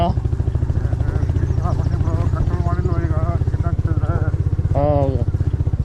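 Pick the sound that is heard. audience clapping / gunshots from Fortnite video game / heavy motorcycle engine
heavy motorcycle engine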